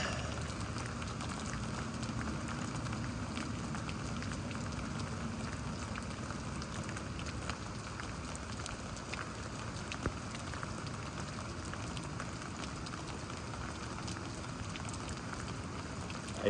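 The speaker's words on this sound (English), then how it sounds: "The rain kind of picked back up a bit." Steady rain falls in Houston, Texas, a dense, even hiss of drops on surfaces that holds unchanged throughout with no voices.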